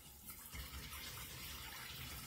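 Water runs steadily from a bathroom sink tap turned up gently, a continuous close hiss and splash with no break across the whole stretch.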